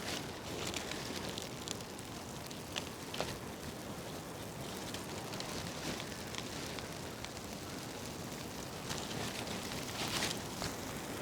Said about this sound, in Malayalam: നമുക്ക് തീ പിടിപ്പിച്ച് കൊടുക്കാം